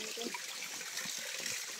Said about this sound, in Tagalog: Bill, tubig sa balon na diha Bill.